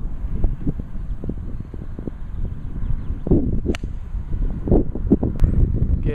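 A stiff breeze sweeps across a golf course, a gusty low rumble against the microphone with light rustling and a few faint knocks scattered through it.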